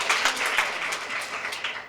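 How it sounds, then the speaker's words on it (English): Audience applause at a publishing-industry panel event on women in publishing and media, a steady wash of many hands clapping at moderate level throughout, with no talk over it. "Go ahead, give that round of applause."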